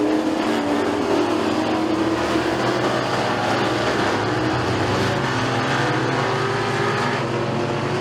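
Race cars running a heat at McKean County Raceway, a continuous loud engine roar with overlapping revving from several cars bunched together, steady and close throughout.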